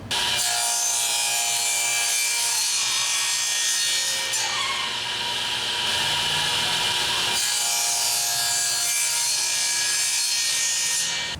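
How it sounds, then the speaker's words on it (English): Half-inch pine board being cut into half-inch strips, a steady continuous sawing roar that runs loud and unbroken for the whole stretch, with a brief shift in tone midway. "Got some more of that 1/2 inch pine, and I'm cutting 1/2 inch strips out of it."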